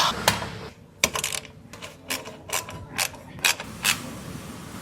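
A motorcycle seat fitted with an alloy storage box is shut and latched, giving a series of sharp clacks and ratcheting clicks at irregular intervals, close and fairly loud.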